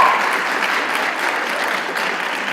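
High school fundraiser audience, with the class of 96 contingent, applauding and cheering steadily, a dense wash of clapping held at an even, fairly distant level.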